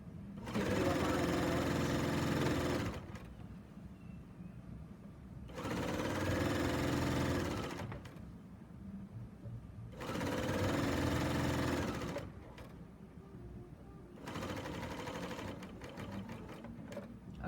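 A serger overlocker stitches binding onto a quilt in four loud bursts of steady mechanical whirring, each lasting a few seconds, with quieter pauses between them.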